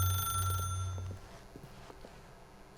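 A telephone rings in The Stanley Parable video game: a bright electronic ring for about half a second that fades into a quiet room with faint footsteps.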